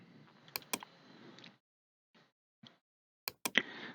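Sharp mouse clicks and keyboard key presses at a computer while modelling in SolidWorks CAD, a few isolated clicks in pairs with short silent gaps, close and fairly crisp over faint room noise.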